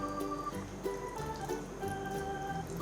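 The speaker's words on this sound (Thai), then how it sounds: "เทลงไปค่อยๆเทเพราะว่ารูมันเล็กมากเลย" Water is poured slowly into a very small hole in a child's experiment, giving a soft, steady trickle and faint dripping close by, with no talking.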